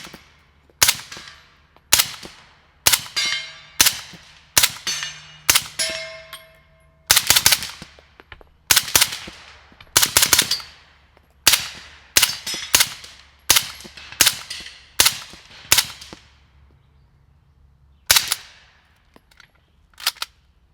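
A Zenith pistol firing 147 grain Callaway ballistic ammunition outdoors, with sharp, loud gunshots in uneven bursts of close single shots and quick doubles across the span, each with a short ringing decay and no voices.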